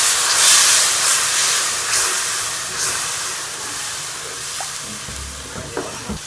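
Water poured into frying masala for chicken kofta curry hisses and sizzles loudly, a broad steamy crackle that slowly settles, with a few stirring clinks near the end.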